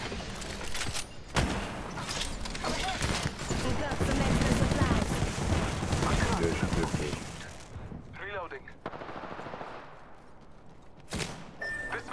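Sustained gunfire in the video game Apex Legends, loud overlapping shots and bursts with game effects, while players talk over the action.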